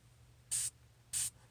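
Two quick, hissing pumps of a spray bottle misting liquid onto a napkin, close and crisp, evenly spaced with a short gap between them in an otherwise quiet room.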